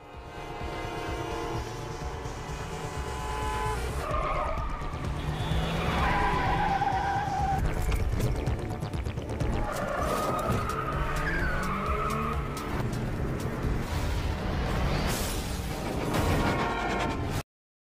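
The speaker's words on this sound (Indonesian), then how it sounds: "pergi dengan menggunakan mobil hingga aksi kejar-kejaran pun tak dapat terhindarkan" Tires skid and squeal during a car chase, with engines revving under long screeching slides that rise and fall over a constant roar, loud and close.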